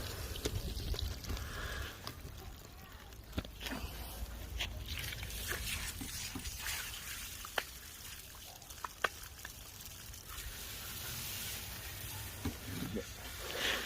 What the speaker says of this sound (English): nice hose and sprinkle, just backwards and forwards, nice and gently